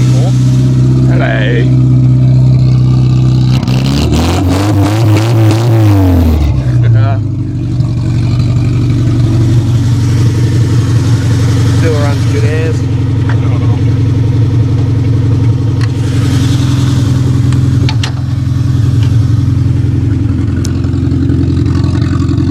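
Car with the exhaust removed, idling loud and raw with a sharp rev partway through, close to the microphone while people talk nearby.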